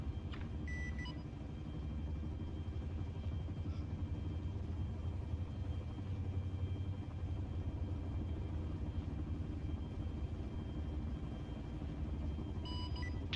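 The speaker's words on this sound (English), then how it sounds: "Phoenix flight of 2 times CH-47s, 1 time UH-60 Blackhawk, lifting from Mike 2 parking for direct departure out to the south" CH-47 and UH-60 Blackhawk helicopters in the ArmA III video game make a continuous low rotor and engine rumble that holds steady and fairly loud throughout, with no talk.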